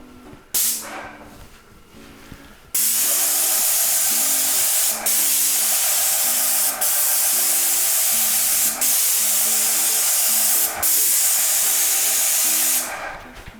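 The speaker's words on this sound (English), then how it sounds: "So the biggest mistake people make with a sprayer like this is they think they can do a really wide swatch." Interior paint sprayer hissing continuously in a steady, loud spray from near, with brief pauses and a short quieter start before the spray kicks in, plus a faint repeating mechanical pulse underneath.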